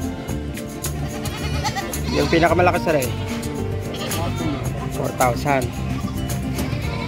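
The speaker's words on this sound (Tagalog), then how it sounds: "Ang daming kambing" Goats bleating at the Malasiqui livestock market, several wavering cries rising near and loud between and under ongoing conversation among buyers and sellers.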